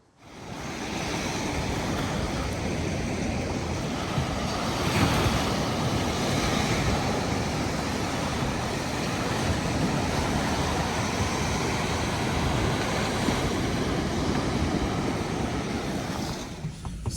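Sea waves breaking on Walcott Beach in the UK, a continuous broad roar of surf with swelling crashes, mixed with wind buffeting the microphone, steady and loud throughout without voices.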